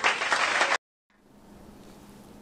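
Applause following a poem reading: a short burst of clapping that cuts off abruptly, followed after a silent gap by a quieter stretch of ambient hall noise.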